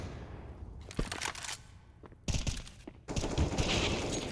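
Rapid rifle sprays and shots ring out in a Counter-Strike: Global Offensive match, with sharp bursts of gunfire separated by brief pauses, growing denser and louder toward the end.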